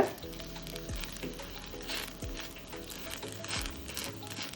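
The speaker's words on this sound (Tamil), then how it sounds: "இதை சுற்றிடும் எண்ணெய் விட்டுடுங்க" Oil poured around a vegetable ragi adai on a pan over medium flame makes a soft, steady sizzle, faint and continuous, under a background of quiet music with rising tones.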